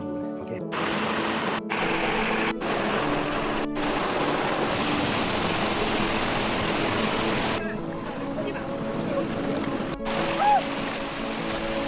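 Kozhippara waterfalls roar as a steady, dense rush of falling water, close and loud and continuous throughout, with a few brief dropouts.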